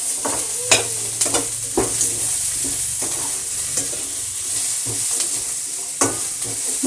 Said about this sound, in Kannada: ಇದು ಸ್ವಲ್ಪ ಕೆಂಪಗಾಗತ್ತಲ್ಲ ಹುರ್ಕೊಬೇಕು.